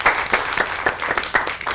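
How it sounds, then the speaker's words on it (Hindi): Studio audience applauding on a Hindi morning talk show, a steady burst of clapping from many hands, fairly close and loud throughout. "तो ये हमारी फिल्मों के लिए तालियां बजा दें"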